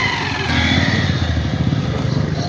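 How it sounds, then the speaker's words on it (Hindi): A motorcycle runs close by in Dhabla village, its steady, loud engine drone pulsing rapidly throughout amid crowd noise. "सामने एक ये मोटरसाइकिल चल रही है"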